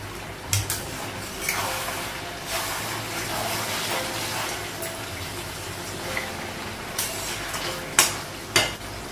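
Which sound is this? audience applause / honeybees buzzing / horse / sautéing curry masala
sautéing curry masala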